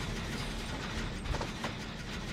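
A generator being repaired in the video game Dead by Daylight gives off a steady mechanical clatter of ratcheting gears and pistons, continuous and fairly quiet, with a few louder knocks.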